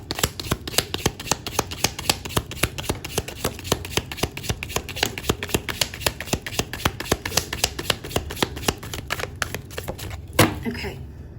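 Tea leaf oracle cards being shuffled by hand for a tarot reading, a close, rapid series of crisp riffling snaps with a steady rhythm that stops abruptly near the end.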